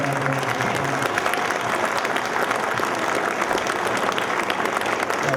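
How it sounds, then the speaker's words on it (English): An audience at a 2009 Rialto sports hall of fame ceremony applauds the Mayor Pro Tem with dense, steady clapping that continues evenly throughout without letting up. "Give him a round of applause"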